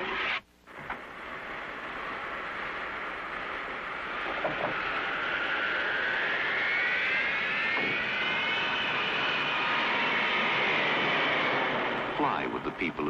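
A vintage Eastern Airlines jet airliner roars steadily with a loud, continuous engine whine and rushing drone that slowly rises and sweeps in pitch, as if passing near overhead.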